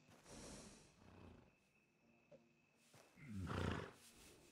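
An American Standard Breed horse in Red Dead Redemption 2 gives a few breathy snorts, with a louder, fuller snort near the end.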